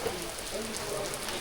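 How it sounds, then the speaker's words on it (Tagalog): Heavy rain falls steadily near the sea, a dense even hiss of drops filling the short stretch. "Ayun naman, yan kalakas yung ulan."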